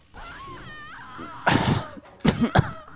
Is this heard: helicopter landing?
no